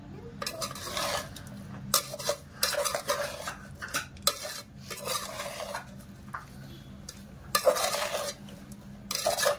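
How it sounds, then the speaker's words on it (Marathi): A spoon stirs and scrapes a marinade with green chillies and ginger in a metal bowl for vegetable pulao, giving repeated close clinks and scraping strokes in uneven bursts. "छान मॅरिनेशन मिक्स करून घेऊया"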